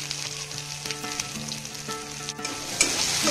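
Masoor dal with turmeric and salt sizzles in a pan as it is stirred, a continuous close hiss with light scraping and a brief louder burst near the end.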